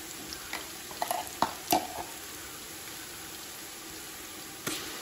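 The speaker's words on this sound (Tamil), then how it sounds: "வெங்காயம் நல்லா வதங்க கிடக்கு, வடிவாக வதங்க." Onions fry with ginger and garlic in a pot for chicken biryani, a soft steady sizzle close by with several sharp scraping stirs of a spoon against the pan.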